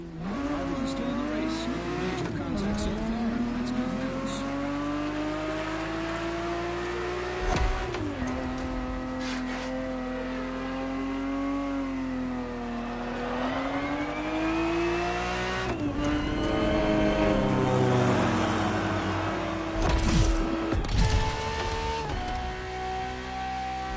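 A Ferrari 365 GTB4 engine races in the video game The Crew Motorfest, revving and shifting through rising and falling whines across the run, with gear changes and a few sharp transients.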